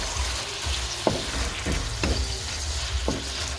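Beef caldereta with tomato sauce being stirred in a pan, a soft steady sizzle with a few distinct scraping strokes of the spoon at roughly one-second intervals, close and quiet.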